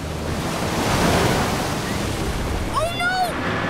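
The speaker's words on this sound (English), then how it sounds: "The waves are getting closer." Cartoon ocean waves washing in as the tide rises by a lighthouse, a steady rushing surf with windy noise throughout, followed near the end by a short rising and falling synthetic tone.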